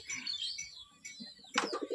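A homing pigeon kept in a home loft calls with short, soft chirping notes, then a sharper burst near the end, close and fairly quiet.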